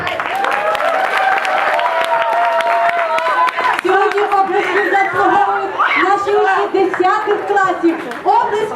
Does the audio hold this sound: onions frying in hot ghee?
no